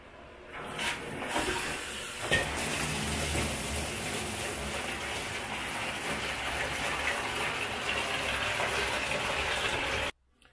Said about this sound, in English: let's get our bucket of science filled up with some water